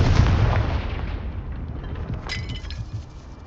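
A loud, booming blast from the Confringo explosion spell in the video game Hogwarts Legacy fills the moment, decaying into a rumbling wash with a glassy, crackling burst near the end.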